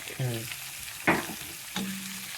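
Onion and chili fry in a hot pan with a steady, close sizzle, broken by a couple of sharp stirring scrapes and clatters.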